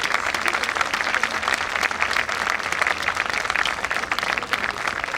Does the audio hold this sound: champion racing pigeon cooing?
no